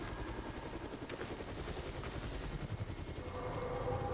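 Helicopter in a Chernobyl video game, a steady chopping rotor drone that stays loud and constant, with game noise underneath.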